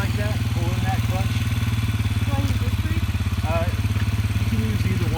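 Dirt bike engine idling and creeping slowly on gravel at a riding lesson, a steady close pulsing motor drone throughout, with people talking over it.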